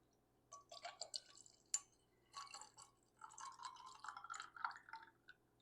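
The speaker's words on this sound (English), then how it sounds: "I'm going to go ahead and attempt to pour this." A homemade summer drink is poured into a glass over ice cubes, faint gurgling splashes and clinks arriving in uneven bursts with short pauses between them.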